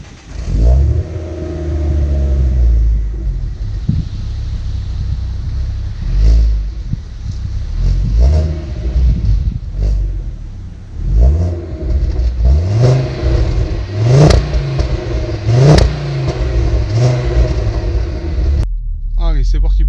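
A Ford Focus RS MK2 five-cylinder pulls away on a road test, its loud, close engine note climbing and falling through repeated revs and gear changes with a deep rumble throughout.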